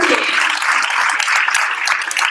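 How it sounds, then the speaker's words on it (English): Audience applause at the HackDuke Fall 2014 opening ceremony at Duke University, a steady dense wash of clapping from many hands that holds loud and even throughout, with no pauses. "Let's give yourself a round of applause for making it all the way out here to Duke University."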